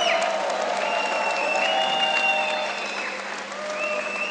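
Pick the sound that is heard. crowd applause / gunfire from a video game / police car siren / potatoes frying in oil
crowd applause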